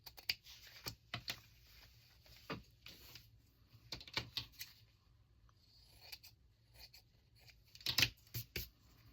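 A sewing machine stitches around lace trim on a handmade journal, giving short, quiet, irregular bursts of needle clatter and soft tapping close by.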